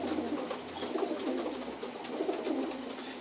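Pigeons coo softly and repeatedly in a loft among young birds, a low murmuring that runs steadily throughout with no talking.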